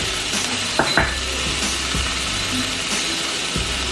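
Chopped red, yellow and sweet peppers and green onions sizzle steadily in a pan while preparing shrimp and grits, with a few scraping stirs and knocks of a utensil against the pan throughout.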